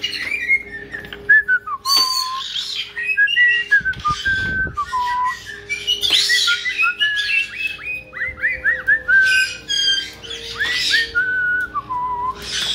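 A pet caique parrot at a bath and play table calls and whistles repeatedly, loud and close, with rising and falling whistled notes broken by sharp squawks and chirps, heard alone without talk.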